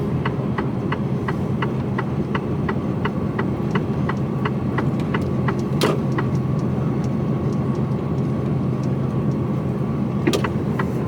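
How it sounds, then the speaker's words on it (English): A big HGV truck passes on a narrow UK road near Whittlesey, heard from inside a truck cab as a steady engine rumble, with a regular ticking, a couple of sharp clicks and a faint tone joining partway through. "Big truck coming round."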